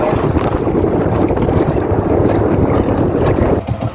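A traditional Filipino fishing boat out at sea with its engine running in strong wind, heard as loud, continuous rumbling chug blended with heavy wind buffeting the microphone.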